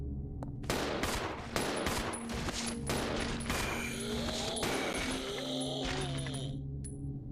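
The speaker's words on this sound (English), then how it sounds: "don't waste my freaking shotgun" Shotgun blasts in the survival horror game Resident Evil 0 HD, several loud booming shots spaced unevenly amid creature shrieks and growls, with overlapping sharp impacts.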